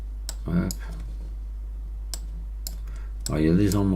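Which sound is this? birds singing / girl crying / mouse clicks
mouse clicks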